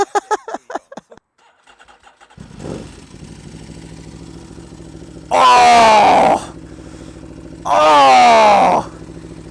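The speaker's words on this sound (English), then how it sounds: "You are basically riding around on an engine." An Aprilia RSV4 Factory motorcycle engine starts up and settles into a loud idle, then roars through two sharp throttle blips, each held about a second before dropping back to idle.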